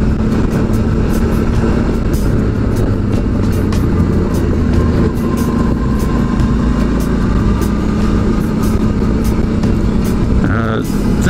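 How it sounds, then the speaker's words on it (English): Loud continuous engine drone and tire rumble from a big adventure motorcycle riding on dirt and gravel roads, with wind noise throughout and no speech. "Getting off down on these dirt roads on a big bike, sure, it's just as fun."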